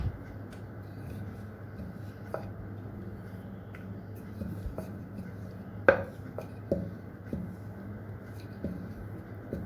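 A rolling pin works luchi dough on a board, heard as faint soft rolling with scattered light knocks and taps against a quiet, low background hum.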